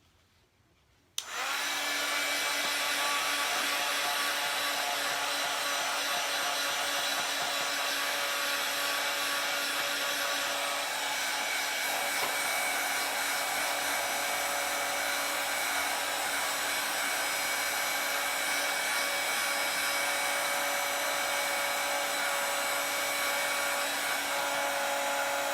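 A hair dryer switches on after a moment of quiet and runs as a steady, loud, continuous whir, drying chalk paste on a Chalk Couture stencil craft project.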